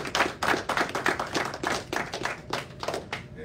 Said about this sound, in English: if we can just give God a hand clap of praise